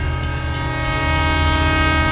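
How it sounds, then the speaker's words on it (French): A train rolling past, a loud, steady rumble with a sustained tonal drone, continuous and close for the whole stretch. "there are trains"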